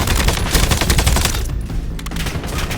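Rapid automatic gunfire from Call of Duty Black Ops 7 rattles in dense, loud bursts, easing off briefly midway before scattered shots resume.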